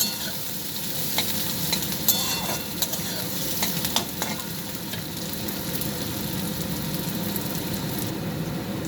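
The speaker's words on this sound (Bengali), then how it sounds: "এবার হালকা করে ভেজে নেবো পেঁয়াজটাকে, খুব বেশি লাল করবো না, হালকা করে ভাজবো।" Continuous sizzle of onions frying lightly in a pan for paneer posto, with scattered scraping and stirring clicks up close; no talking.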